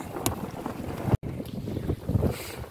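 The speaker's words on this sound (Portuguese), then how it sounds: "e o vento tá aí mesmo" Wind buffets a microphone on a fishing boat out at sea, a steady broadband rush with gusty low rumble and a brief dropout midway, no voices.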